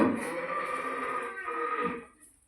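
Cattle low loudly at feeding time as fodder is put out for them, one drawn-out moo close by that tails off near the end.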